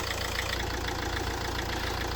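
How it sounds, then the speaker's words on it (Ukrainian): A 2008 Mercedes Sprinter 313 diesel van engine idles steadily with a low, even rattling chug, close and constant for the whole stretch. "На даний час заведений двигун. Ви чуєте роботу."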